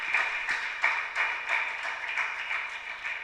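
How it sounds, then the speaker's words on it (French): Applause from an audience at a school quiz competition, a steady wash of clapping with a few sharper accents, moderately loud and unbroken. "je vous demande d'apprécier ces jeunes avec un tonnerre d'applaudissements"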